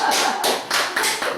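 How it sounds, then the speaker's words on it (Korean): A few sharp handclaps in a steady rhythm, close and fairly loud, from a small church congregation during a sermon; the burst is brief with no voices over it. "박수 한번 해요"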